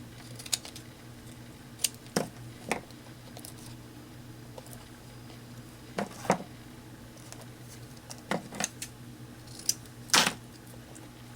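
Scissors cut paper for a craft project in a series of crisp, close snips spaced irregularly, with short pauses between cuts against a quiet background.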